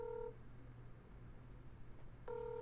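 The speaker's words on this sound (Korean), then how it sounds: "전화를 안 받네요." A phone call rings out unanswered, with two bursts of steady electronic ring tone separated by a long quiet gap, faint and alone over a low background hum.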